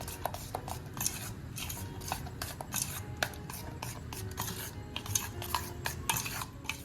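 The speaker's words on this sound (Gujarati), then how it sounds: "આપણે આ જે પ્યુરી બનાવી છે એ એડ કરીશું અને હવે આપણે આ રીતે એકદમ સરસ રીતે મિક્સ કરી લઈશું" Vegetable puree being stirred into idli batter in a bowl, a steady wet scraping and sloshing with repeated spoon clicks against the sides, close and continuous with no talk.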